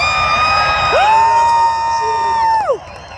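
A large crowd at a Trump rally in Coachella cheers and whoops loudly throughout, with a high sustained yell rising and falling above the roar.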